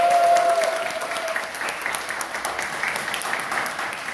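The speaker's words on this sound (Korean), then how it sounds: "힘찬 응원의 박수 부탁드리겠습니다" Applause from attendees at a regional party members' meeting and dinner gathering in South Gyeongnam, a steady clapping crowd that swells at the start and then holds even and sustained throughout.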